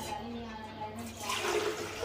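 Hot water poured into a glass while preparing a cold drink at home, a steady splashing pour that swells in the second half, with faint voices in the background.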